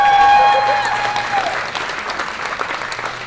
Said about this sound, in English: Round of applause for the groomsmen.